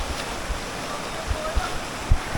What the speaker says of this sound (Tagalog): Ang lakas ng agos niya.